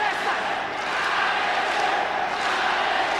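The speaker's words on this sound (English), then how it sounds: "And the crowd getting behind Alexander Atsuka, hoping that he'll rally the same way he did against Marco Ruas." Crowd at a Pride FC mixed martial arts event, a steady roar of cheering and shouting from a large arena audience, filling the whole clip without a clear break.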